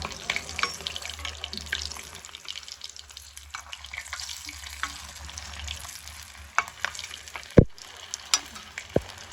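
Samosas frying in oil in a kadhai, a close bubbling sizzle with stirring and spoon knocks, sharp clacks near the end, and background noise throughout.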